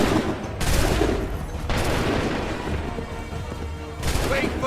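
A massed musket volley in Assassin's Creed 3 erupts in loud crackling bursts, one early and another later, each fading into a rumbling tail, with a soldier's voice shouting in the game.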